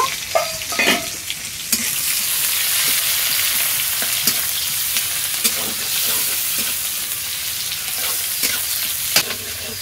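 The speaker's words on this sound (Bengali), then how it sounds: "পেঁয়াজটাকে একটু 2 মিনিটের মতো ভেজে নেব।" Chopped onions fry in a pan for ghugni, giving a steady, close sizzle with clattering stirring strokes throughout and no talk.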